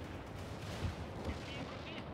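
Rumbling explosions and gunfire-like blasts from the game World In Conflict during a bombing run, a dense continuous barrage with a couple of heavier booms standing out.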